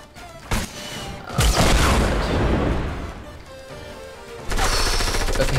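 Rockets explode in a Fortnite battle royale fight, with a sharp blast followed by a heavy rumbling boom that slowly fades, then another burst of loud explosive noise near the end.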